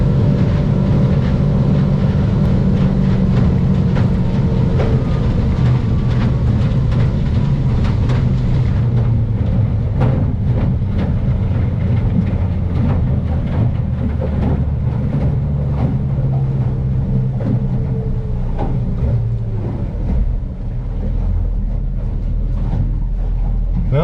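Stabicraft boat's outboard engine running at speed on the sound, a loud continuous low drone with hull thumps and rushing water and wind throughout.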